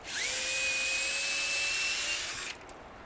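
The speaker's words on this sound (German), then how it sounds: "Außerdem bohren wir nicht zu tief rein" A power drill whines steadily into hard beech wood while building a treehouse, its pitch rising briefly at the start, then holding a loud sustained tone before cutting off abruptly near the end.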